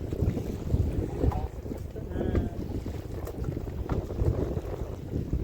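On the Vidyadhari river in the Sundarbans, a fishing boat sits mid-river while waves slap against it and a north wind buffets the microphone, making a continuous rough rushing and churning noise.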